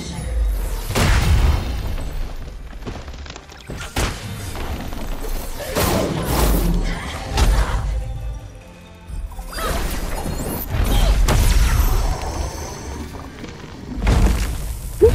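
Several heavy booms and crashing blasts from bombs going off in Kena: Bridge of Spirits, spaced across the stretch amid battle noise, with some voice under the impacts.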